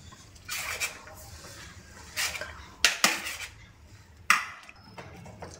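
Macaroni salsa being mixed with mayonnaise in a bowl, with a few distinct clanks and scrapes of a spoon against the bowl, spaced irregularly over a quiet background.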